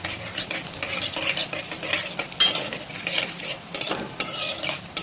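Bay leaf, cumin, a small cinnamon piece, two cloves and two green cardamoms tempering in hot oil over a high gas flame, crackling and sizzling up close while a utensil stirs and scrapes the pan in uneven bursts.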